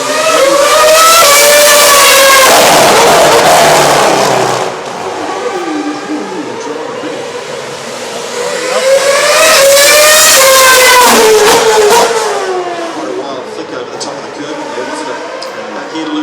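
Formula 1 cars at the 2011 Singapore Grand Prix scream past in two loud passes, pitch sweeping as they approach and recede, with race commentary talking over the engines.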